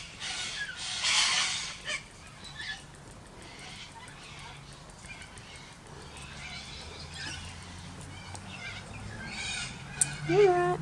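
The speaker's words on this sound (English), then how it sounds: "Who needs music when you've got cockatoos" Cockatoos screech in loud harsh bursts outdoors, a couple of calls near the start and more toward the end, with a person speaking quietly between them.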